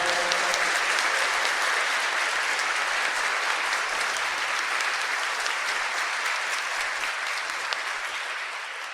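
Dense, steady applause fills a church during a Sunday Mass homily, with many hands clapping continuously at close range and holding strong throughout, with no talking over it.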